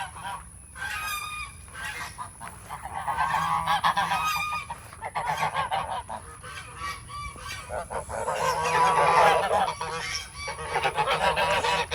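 Geese honk repeatedly in a busy, overlapping chorus, loud and close, continuing throughout with no talking.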